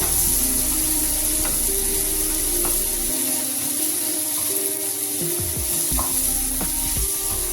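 Onion and tomato sauté in a pan with a steady, close sizzle, broken by scattered scrapes and taps of a stirring utensil, and no talking over it.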